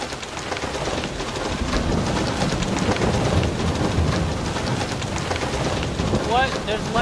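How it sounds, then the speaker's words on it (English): Steady heavy rain pours with low thunder rumbling underneath in Farming Simulator 22, continuous and fairly loud throughout. "It's raining."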